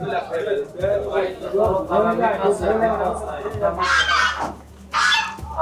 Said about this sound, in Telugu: ఇక్కడ చికెన్ కోసం అమ్ముతున్నారు. ఇవి నాటుకోళ్ళు.